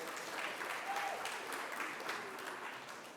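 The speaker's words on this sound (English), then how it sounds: "Give him a big round of applause." Faint, steady applause from an audience at an organic industry awards event, a continuous wash of clapping heard from a distance that tapers slightly at the end.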